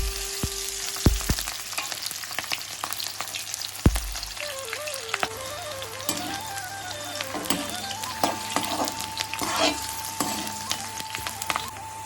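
Onions fry in a hot wok with a loud, crackling sizzle. Sharp clanks of a utensil against the metal punctuate the frying, and a steady tone hums underneath.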